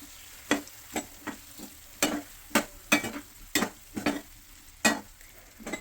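Tomatoes frying in a curry pan, with about a dozen separate stirring scrapes and clatters at an irregular beat over a faint, steady sizzle, close by and with no talk.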